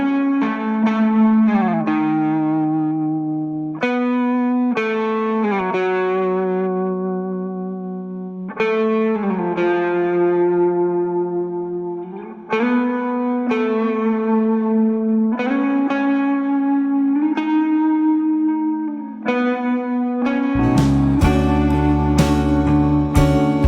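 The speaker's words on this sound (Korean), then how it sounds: "후렴에 나오는 톤은 완전히 같은 세팅에서 랜드그라프 오버드라이브의 게인과 볼륨만 더 올렸습니다" An electric guitar plays a slow series of sustained chords and single notes through a Landgraf overdrive with raised gain and volume and a UAD Capitol Chamber reverb, notes ringing warm and slightly distorted with a spacious tail, louder and fuller at the end.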